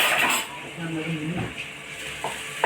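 Onions and greens sautéing in a pan on the stove, a close steady sizzle with a spoon stirring and scraping against the pan, with faint background sound throughout.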